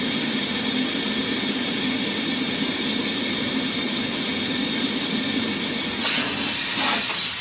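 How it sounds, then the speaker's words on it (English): A steam cleaner blasts steam through a car chassis leg before undersealing treatment, a loud, steady broadband hiss that runs without a break and swells slightly near the end. "you can see all the steam popping out as we go along."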